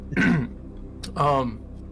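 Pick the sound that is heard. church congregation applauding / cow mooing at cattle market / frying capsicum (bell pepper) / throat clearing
throat clearing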